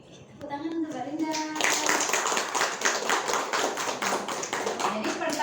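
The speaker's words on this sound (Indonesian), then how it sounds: "tepuk tangan untuk Mbak Linda" Classroom clapping for a student during an Islamic religious studies lesson, starting after a brief moment of voices and building into a lively, rhythmic burst of hand claps from a group of students close by.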